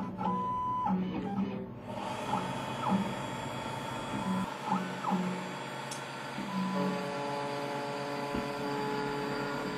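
A key cutting machine mills a high security laser key blank locked in its vise, a whirring motor with repeated rhythmic grinding passes, steady and fairly quiet.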